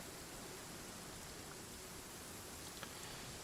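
Steady, even rain hiss from the Genshin Impact video game, a faint continuous wash of falling rain with no pauses or voices.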